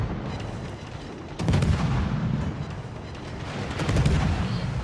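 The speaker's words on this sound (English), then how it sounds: "I can hear shells falling around me." Artillery shells land around the Swedish cruiser Östergötland in a naval video game, a dense rumble of distant booms and blasts, one sharper impact standing out, a continuous heavy barrage with no talk.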